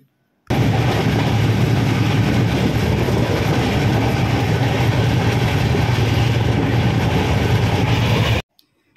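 A steady, loud roar of the Jammu Tawi–Kolkata express train running fast, heard from on board, with a constant rushing rumble and no pauses for the full length.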